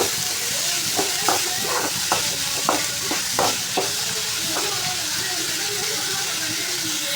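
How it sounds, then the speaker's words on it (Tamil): Onion and a green chili sauté in a pan with a steady sizzle, punctuated by a run of sharp spatula scrapes and stirs early on, close to the mic before the stirring fades into a continuous hiss. "இது நல்லா வதங்கட்டும்"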